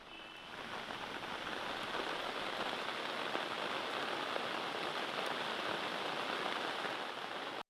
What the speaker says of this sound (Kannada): ಉತ್ತರ ಕನ್ನಡ ಜಿಲ್ಲೆಯಲ್ಲಿ ಅಬ್ಬರದ ಮಳೆ ಸುರಿತಾ ಇದೆ